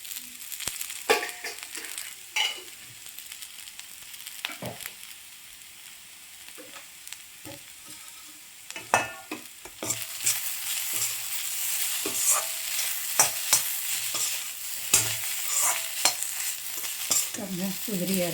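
Potato poriyal stir-fried in coconut oil, with scattered spoon scrapes and stirring knocks over a steady sizzle that grows louder and denser partway through, with no talking.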